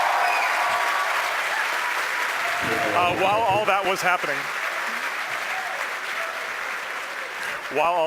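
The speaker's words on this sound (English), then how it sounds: "The crowd's going nuts here at SpaceX headquarters in Hawthorne." A crowd at SpaceX headquarters in Hawthorne cheers and applauds after a Falcon 9 booster lands on a drone ship, loud sustained clapping and whooping with someone speaking over it partway through.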